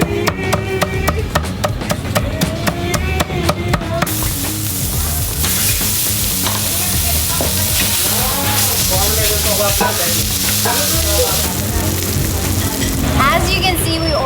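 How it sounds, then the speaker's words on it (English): Sizzling sisig, chopped pig face with sour ingredients, frying on a hot plate in a Pampanga eatery in the Philippines, a loud continuous close hiss and crackle lasting throughout, with faint background music and some voices beneath. "we ordered sizzling sisig"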